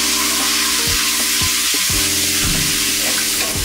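Whole spices, ground ginger, cumin, garlic paste and turmeric sizzle steadily in hot oil for achari khichuri, with a loud, continuous frying hiss and a few soft stirring knocks throughout.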